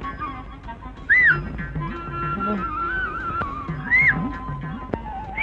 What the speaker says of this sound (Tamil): என்னடா விசில் அடிக்கிற?